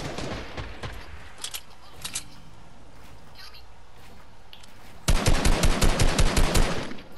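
Gunfire in a video game: scattered single shots at first, then a loud rapid burst of close automatic fire near the end, with quieter stretches of ambience between.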